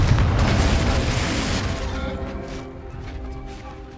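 A Confringo blast spell in the video game Hogwarts Legacy, heard as a loud, booming burst at the start that rumbles and slowly fades over a few seconds, with no talking.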